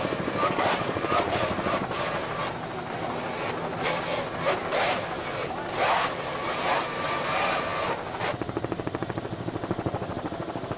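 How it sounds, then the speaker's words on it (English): Racing powerboat driven by Mercury outboard motors at full throttle, a loud continuous engine roar with a high whine and choppy wash layered over it, steady throughout. "He's really putting those Mercury motors to the test."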